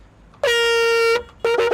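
Loud in-game truck horn from Farming Simulator 25: one long sustained blast lasting most of a second, then a brief pause and a second honk starting, close and clear with no voices.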